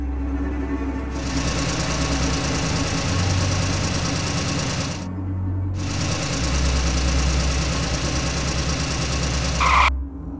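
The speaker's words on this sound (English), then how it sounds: "Scary crane truck." A crane truck engine runs in an animated cartoon, a rumbling, knocking idle with a rattling layer that drops out for a moment midway and returns before a short bright tone near the end.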